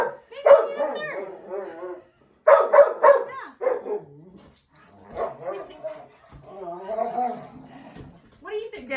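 Puppies barking and yipping in short bursts at close range, with several clustered barks and whimpering yelps spread across the stretch, loud against a quiet room.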